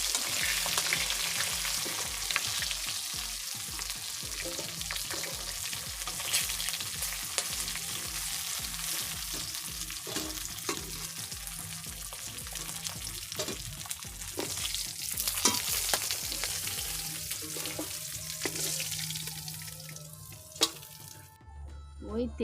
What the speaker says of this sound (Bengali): মাছগুলো ভাজা হয়ে গেছে, এবার আমি মাছগুলো তুলে নিচ্ছি।